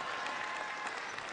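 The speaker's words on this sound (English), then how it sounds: "A round of applause as these seniors get to check out for the last time." Spectators at a girls' Class MM high school basketball semifinal give seniors a round of applause as they check out of the game, a dense, steady crowd clapping throughout at moderate distance.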